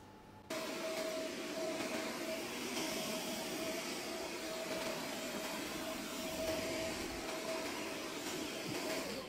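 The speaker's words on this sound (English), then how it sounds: "now that we've finished vacuuming" A SwitchBot S10 robot vacuum cleans a wooden floor, giving a steady, continuous whir with a faint constant tone that starts abruptly and runs unbroken at moderate level, with no voices.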